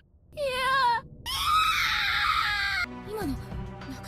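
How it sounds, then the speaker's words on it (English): Nakashima, a schoolgirl character in the horror game Corpse Party, screams in several loud, wavering wails separated by brief pauses, ending in a lower, moaning cry. "Wasn't that Nakashima's voice? And she was screaming?"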